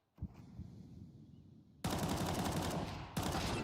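Bursts of automatic rifle fire in a tactical first-person shooter match, a low muffled exchange followed by two sharp, loud, sustained volleys close by.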